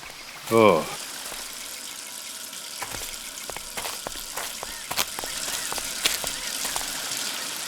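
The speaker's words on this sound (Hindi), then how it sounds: "यहाँ पे पानी की पाइप फटी हुई है।" Water gushing steadily from a burst water pipe, a constant broadband rush filling the whole stretch, with a brief sharp burst near the start and scattered clicks and knocks over it.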